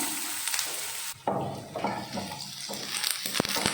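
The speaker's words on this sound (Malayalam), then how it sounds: "ആദ്യം തന്നെ നമ്മൾ അരിഞ്ഞു വെച്ച തേങ്ങക്കൊത്തുണ്ടല്ലോ അത് ഇട്ട് കൊടുക്കാം" Chopped coconut pieces sizzle as they go into hot coconut oil in a pan, a steady crackling fry with a brief break and some stirring clatter, fairly quiet with no talk.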